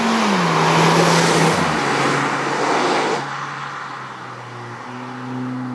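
A 2022 facelift Kia ProCeed GT with a 200-horsepower 1.6 petrol engine pulls hard, its engine note sliding down as it shifts, then easing into a quieter, steady hum.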